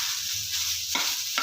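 Onions fry in a pan with a little salt, giving a steady close sizzle with soft scraping as they are stirred, and no voices.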